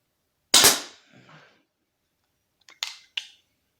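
A Beeman air rifle fires pellets at a target ten metres away, giving one sharp crack followed by a faint mechanical rattle, then two more quick clicks and snaps from handling the gun, with no talking.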